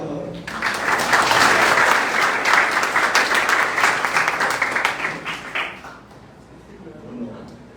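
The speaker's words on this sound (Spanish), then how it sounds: "Recibamos con un aplauso" Applause from an auditorium audience at a university faculty commemoration rises quickly to a loud, full round of clapping, then tapers off. A quieter voice follows as the clapping fades.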